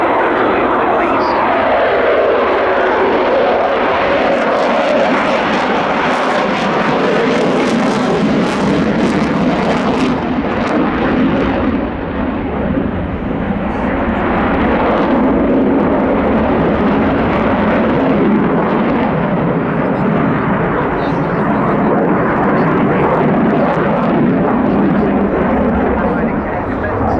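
An RAF Typhoon jet with reheat lit flies a display at the RAF Cosford airshow, a loud, rumbling afterburner roar that surges and fades across the pass while a commentator talks over it on the public address.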